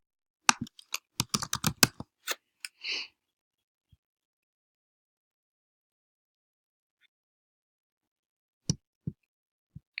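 Fingers type on a computer keyboard in a quick, close burst of clicks over about two seconds, followed by long silence and a few final isolated key taps.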